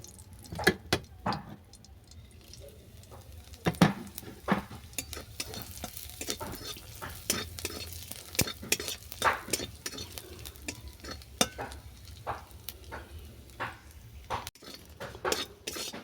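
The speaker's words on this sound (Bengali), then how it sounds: "এই তেলের মধ্যে জিরে লঙ্কাটাকে ভেজে নেব" Cumin and chili frying in oil, left over from frying fish, in a pan for a burnt chichinga mash: steady close sizzle with repeated sharp stirring and scraping clicks throughout, no talk.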